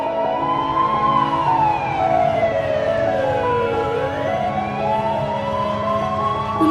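An ambulance siren wails continuously in stopped traffic, its rising and falling tone loud and close, with no voices over it.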